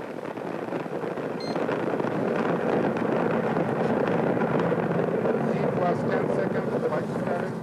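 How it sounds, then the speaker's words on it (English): A Proton rocket carrying the AMC-15 satellite lifts off from the Baikonur Cosmodrome in Kazakhstan as a steady, broad roaring rumble. A voice is faintly heard beneath it. "we lift off the Proton rocket from the Baikonur Cosmodrome in Kazakhstan, carrying the AMC-15 satellite"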